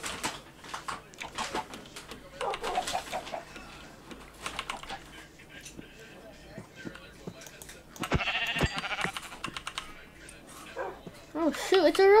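A dog in Minecraft barks several times amid people talking and keyboard clatter, the barks sharp and intermittent.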